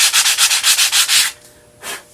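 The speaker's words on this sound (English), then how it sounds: "sanding, and it's nice and smooth." Hand sanding of raw wood after a first coat of paint, about ten quick, even back-and-forth rubbing strokes up close, a pause, then a single final stroke.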